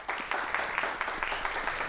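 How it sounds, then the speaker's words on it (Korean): Studio audience applauding steadily to welcome two guests onto a Korean TV talk show set, a dense, even patter of clapping hands lasting the whole stretch with no voices over it. "두 분을 박수로 모시겠습니다"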